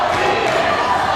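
Wrestling arena crowd roaring as a dense, continuous wash of cheering and shouting at a loud level, with no breaks.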